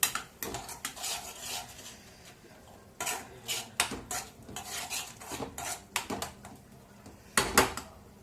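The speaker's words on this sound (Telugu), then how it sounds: "తిప్పుతూ ఉండాలి ఎందుకంటే అల్లం పేస్ట్ ఒకసారి అడగట్టుద్ది" A utensil scrapes and clinks against a pan while ginger paste is stirred for a Telugu-style fish curry, with irregular metallic scrapes and knocks, close and fairly loud with no talk.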